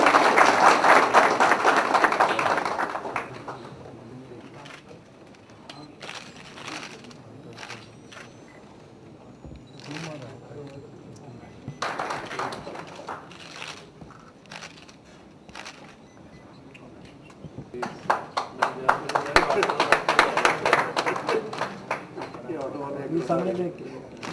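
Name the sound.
audience clapping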